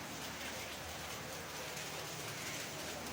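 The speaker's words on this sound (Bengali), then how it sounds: "বৃষ্টি তো চলতেই আছে, মানে সারা রাত ধরে বৃষ্টি এখন, এবং এখন আর স্টিল বৃষ্টি" Continuous rain pours down in Chattogram after raining all night, a constant broadband patter that stays even and soft throughout with no talk.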